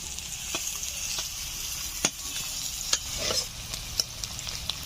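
Sliced onions with a pinch of salt sizzle steadily in oil in a pan, frying toward light brown, while a spatula scrapes and stirs them in sharp, irregular strokes rising above the constant hiss.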